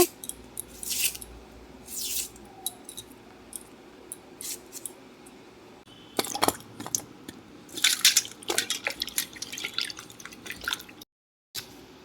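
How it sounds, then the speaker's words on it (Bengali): Onions are cut with a knife in a home kitchen while morala fish is prepared for patouri in gourd leaves: irregular, crisp cutting clicks in short bursts separated by quiet pauses. "এখানে কয়েকটা পেঁয়াজ কেটে নেব"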